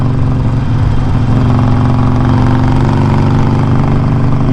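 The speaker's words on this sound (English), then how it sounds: "Now the Harley sounds like a Harley, baby." A Harley-Davidson Forty-Eight motorcycle fitted with a new $160 exhaust rumbles steadily at idle, a loud, close, deep throbbing pulse that holds constant throughout with no talk over it.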